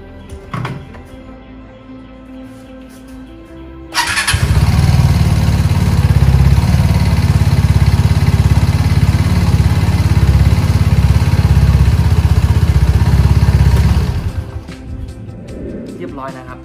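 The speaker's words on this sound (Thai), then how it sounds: "เดี๋ยวเรามาลองสตาร์ทดูครับ" New Vespa scooter, freshly fitted with a spark plug, cranks and fires with a sudden loud start, idles steadily for about ten seconds, then is switched off into a quiet room.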